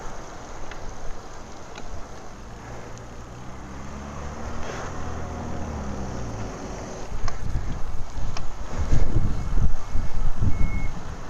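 Strong wind gusts buffet the microphone on a street outside a kebab house in Bristol, rising into heavy rumbling blasts toward the end, while a passing vehicle's tonal engine hum swells and fades in the middle.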